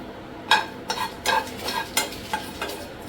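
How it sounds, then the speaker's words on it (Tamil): Dry red chillies, cinnamon, cardamom and cloves roasting in a hot pan, with a series of distinct spoon-stirring scrapes and rattles over a low dry crackle, close and fairly loud, no talk. "நல்லா வறுத்துக்கலாம் தீய விட்டுறாதீங்க தீய விடாமல் நல்லா வாசனை வர வரைக்கும் நல்லா வறுத்துக்கோங்க"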